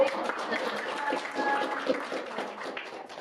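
An audience at a young pencak silat athletes' talk show claps in a continuous, fairly close burst of applause lasting a few seconds, with light voices mixed in.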